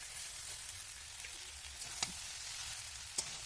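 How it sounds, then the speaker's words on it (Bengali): Boiled pasta frying in a wok, a faint, even sizzling hiss with two brief clicks of a utensil. "এই পাস্তাটা আমি কড়াইয়ের মধ্যে দিয়ে দিয়েছি"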